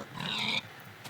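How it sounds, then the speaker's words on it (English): A pig in the video game Minecraft Alpha gives a single short oink, fairly faint over a low hum. "If I knock a pig into it, will I get a cooked pork chop?"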